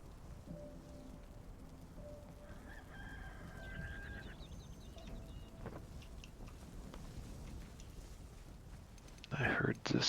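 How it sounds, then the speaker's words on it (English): A rooster crows in the survival game Enshrouded, two clear crows over steady falling rain, with clucking fowl nearby and a sharp burst of sound right at the end. "I heard the sounds of a rooster."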